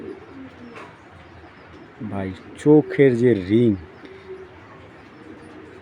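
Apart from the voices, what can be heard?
breeding pigeons cooing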